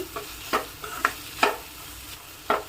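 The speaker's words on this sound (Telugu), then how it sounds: "ఈ అల్లం పచ్చిమిర్చి వేసిన తర్వాత కూడా జస్ట్ టూ మినిట్స్ అలా వేగనిస్తే సరిపోతుంది" Ginger and green chili paste is stirred in a hot pan, with about five distinct scraping strokes spaced through a low, faint sizzle and no talking.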